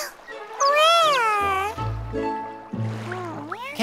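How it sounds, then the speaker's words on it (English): A cat meows several times in drawn-out, rising and falling cries, fairly loud and close, each call stretching over a second. "There's a cat around here?"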